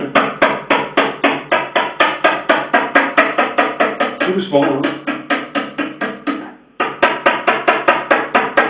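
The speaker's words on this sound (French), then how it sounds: "vous tapez sur cet ergot avec le marteau, tout doucement pour ne pas casser la pointe" A hammer taps gently and steadily on a small pin of a washing machine door, dozens of quick close metallic knocks in even rhythm with a brief pause near the end, while a voice speaks softly over it.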